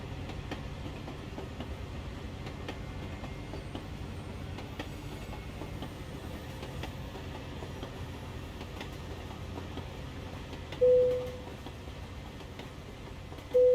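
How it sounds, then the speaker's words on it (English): A steady rumble of a train rolling by in American Truck Simulator with faint rhythmic clicking, followed by two short tonal blips near the end. "we hear the train going by, don't we?"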